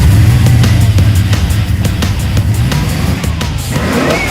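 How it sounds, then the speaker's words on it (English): A loud engine in a rebuilt Chevrolet C-10 pickup truck roars and revs with throaty pulsing on its first start, running hard and close, its pitch rising near the end. "now that we know the engine sounds great and that this truck is ready"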